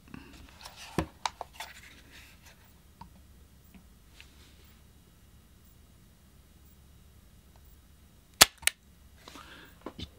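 A Marushin Colt SAA Cavalry black heavyweight X-cartridge gas revolver fires indoors, a couple of sharp snapping pops with small mechanical clicks between them, otherwise a quiet room.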